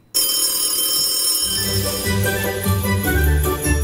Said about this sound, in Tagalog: I-ready na ang inyong cellphone dahil tinatawagan na namin ang next winner sa Kring Kring Panalo Malakas sa telepono.